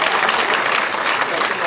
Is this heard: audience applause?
yes